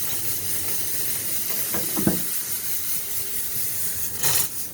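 A pressure cooker holding a container of steamed hilsa with pumpkin seeds releases a continuous airy hiss of steam after its whistles, with a few faint clinks and a brief louder surge near the end.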